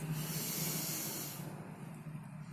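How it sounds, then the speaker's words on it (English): Air flows out in a slow, controlled exhale during yoga breathing, a broad breathy hiss close to the microphone that holds steady, then fades softer toward the end. "Exhale slowly."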